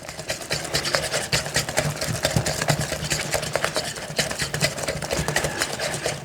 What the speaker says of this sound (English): I'm pretty sure you're not supposed to whisk it that long because you make it like super airy and fluffy